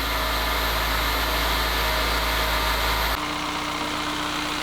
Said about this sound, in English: He's running and idling just fine.